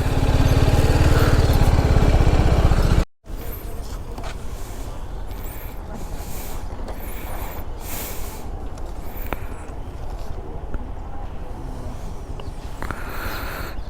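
TVS Apache RR 310 motorcycle engine running loud and close for about three seconds, then cutting off abruptly, leaving quieter outdoor ambience with faint clicks and movement.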